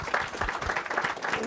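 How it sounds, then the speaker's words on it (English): Brief burst of audience applause at a technology conference, a short, moderately loud patter of many hands clapping together without a break. "A big round of applause to you."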